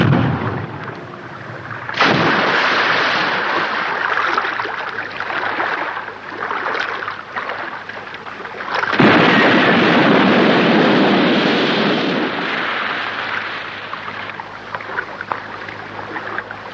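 Guns firing on a shouted French command, heavy bursts of gunfire as all units open fire, a loud sustained roar from about two seconds in, surging again around nine seconds and then tapering off, with no talk over it.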